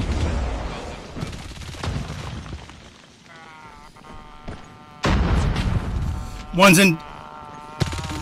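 Rapid MG42 machine gun bursts in Call of Duty Mobile, loud and close, intermittent across the clip with heavier firing near the end, under a player's talk.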